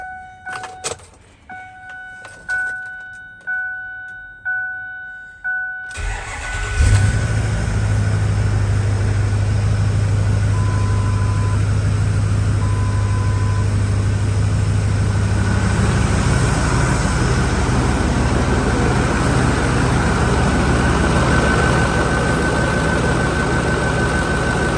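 A Ford F550 truck's engine cranks several times in short rhythmic bursts, then catches and settles into a steady, loud, low idle that continues alone.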